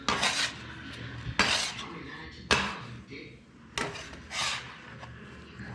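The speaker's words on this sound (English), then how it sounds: "this is why you have the scraper. You kind of scrape everything" A metal bench scraper gathering galette dough on a work surface, giving four sharp scraping knocks at irregular intervals with softer rubbing between them, close and fairly quiet.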